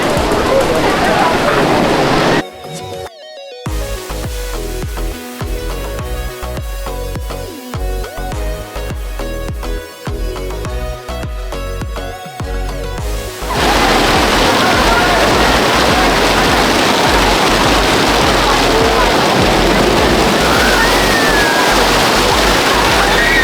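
Heavy water pours down loudly in a continuous broadband rush, first interrupted by music and brief gaps, then a sustained steady torrent for the last ten seconds.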